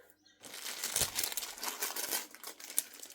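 Cross-stitch supplies being put away, including a kit with scissors and needles, making close, continuous crinkly rustling of packaging and materials that swells and fades with small handling bumps, with no talking.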